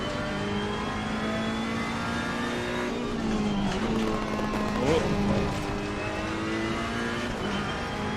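Race car engine in a racing video game revving steadily with gear changes and a downshift, a continuous harmonic drone under a voice.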